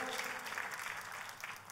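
A church congregation applauds during a sermon, a dense, steady patter of many hands clapping together, faint and continuous.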